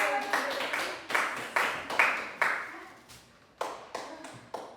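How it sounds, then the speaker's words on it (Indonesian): Classroom applause from students during a poetry reading lesson, loose irregular clapping in short separate bursts, each starting sharply and dying away quickly, moderately close. "Terima kasih tepuk tangan untuk Adel."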